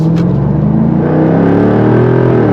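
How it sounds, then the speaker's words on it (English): A 2024 Jaguar F-Type R75's 575-horsepower supercharged V8 engine revs up loudly and close by, its deep roar climbing steadily in pitch with a whining supercharger edge. "The exhaust note is absolutely ridiculous."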